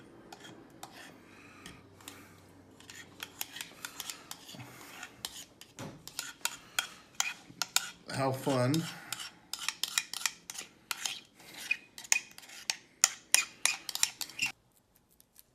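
Scissors snip at plastic pastry bags in a home kitchen, giving a run of small, close clicks and crinkly cuts that speed up toward the end. A voice speaks briefly.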